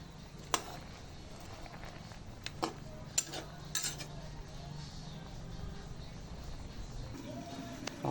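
Squid adobo with bottle gourd is stirred in a pan, with scattered metallic clinks and scrapes of a utensil against the cookware over a quiet background.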